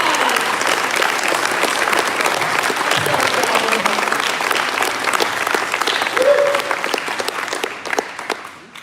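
Sustained applause from a crowd, dense steady clapping that holds for several seconds before tapering off near the end.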